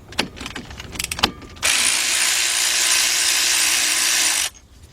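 A big ratchet works on 14mm, 3/8-drive caliper bolts of a 2007 Nissan Murano 3.5 during a front brake job: a few sharp clicks, then a loud steady mechanical whir for about three seconds that stops abruptly.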